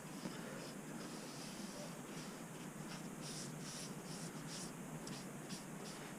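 Soft, continuous rubbing strokes of a cloth wiping stain onto a walnut and pine coffee table, steady and close, with no talking.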